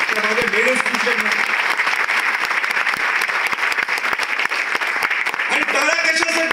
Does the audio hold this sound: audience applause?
yes